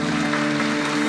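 A large audience applauds for a band at a live comedy show in a theater, with dense, loud, continuous clapping and a sustained hum underneath.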